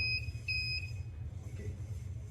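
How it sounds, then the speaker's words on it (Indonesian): Arduino-controlled automatic door prototype's buzzer sounding two short high beeps in quick succession after an unregistered name tag is scanned, faint over a steady low hum. "Buzzer akan berbip 2 kali, itu menandakan name tag yang kita tempelkan itu tidak terdaftar di dalam program Arduino tersebut"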